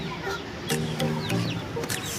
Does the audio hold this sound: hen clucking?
yes